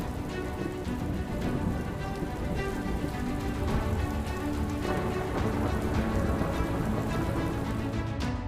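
Steady heavy rain pours onto surfaces outdoors, a dense, constant, loud patter that fills the whole stretch without pause or talk.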